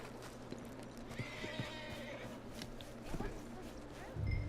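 A horse in the video game Red Dead Redemption 2 gives a whinny over light hoof clip-clop and outdoor ambience, with a louder low snort or thump near the end; a voice is also present.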